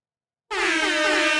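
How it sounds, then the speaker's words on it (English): A blaring air horn sound effect fired from a soundboard bursts in suddenly after a moment of silence and holds loud and steady to the end. "Air horn."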